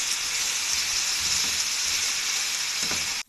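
Potato pieces fry in hot oil, giving a dense, even sizzle that holds at steady loudness throughout before cutting off at the end.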